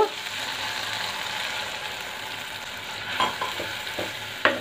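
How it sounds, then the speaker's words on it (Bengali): Egg and poppy seed paste fries in hot oil in a pan for a Bengali dim posto, giving a steady close sizzle with stirring scrapes and a couple of louder clinks near the end, no speech. "এর মধ্যে দেব, তেলের মধ্যে। একটু কষিয়ে নেব।"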